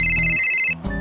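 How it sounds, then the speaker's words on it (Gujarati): Mobile phone ringtone sounding loudly and close up for about a second, cut off abruptly as the incoming call is picked up. "એટલે અરે ઉર્વિલનો ફોન આવી બી ગયો."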